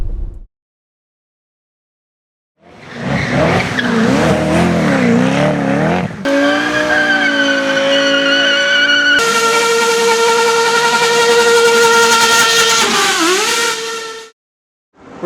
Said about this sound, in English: We're here at the Goodwood Festival of Speed.